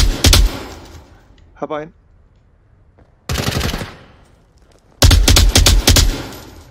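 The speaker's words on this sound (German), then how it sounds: "Ich wurde von irgendwo beschossen." Loud bursts of automatic gunfire in the VR shooter Onward, three separate volleys with quiet gaps between, the last the heaviest, with a short voice heard in between.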